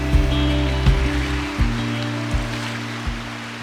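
Ocean waves at Punta del Este, Uruguay, where a river meets the salty sea; soft repeated wash of water with periodic low thumps roughly every three-quarters of a second, fairly close and steady.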